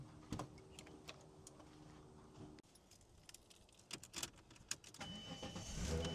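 Volkswagen T4 camper van, said to have a battery problem, with keys jangling, a quick crank, and the engine catching and settling into a steady low idle, heard quietly and up close.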